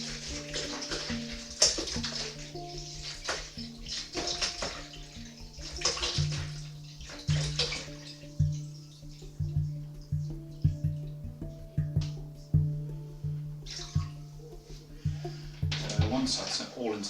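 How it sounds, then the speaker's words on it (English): Spiced malt vinegar marinade for biltong is poured from a shaken container into a bowl, giving a steady watery splashing and trickling with intermittent sloshes, close by, over a low background hum. "Pour it into the bowl."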